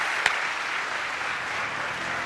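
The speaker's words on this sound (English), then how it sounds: "Please give them a warm round of applause." An audience applauds a panel of CEOs on stage at a live iGaming conference in Valletta, a dense, even wash of many hands clapping throughout with one sharp louder clap near the start.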